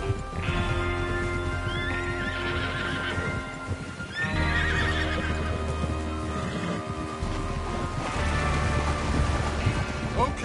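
Horses in the game Red Dead Redemption II neigh and whinny several times amid clip-clopping hooves and rain, with a low rumbling ambience underneath.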